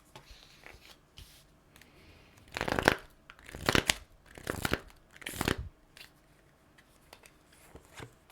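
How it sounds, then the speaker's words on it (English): A deck of playing cards is shuffled in four loud riffling bursts, close up, with brief pauses between them and no talk. "Should have shuffled them horizontally"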